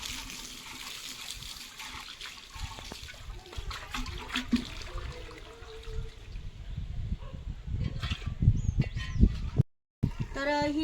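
Running water from a hose splashes and gushes over a tulsi planter in a home courtyard, a steady wash with brief louder splashes near the end.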